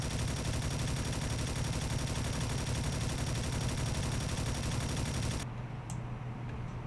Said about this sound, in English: let's take a look at the fire rate,